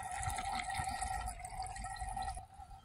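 Water courses steadily through a Zoeller sump pump, a constant close rushing flow with a gurgling tone that stays even throughout with no talking.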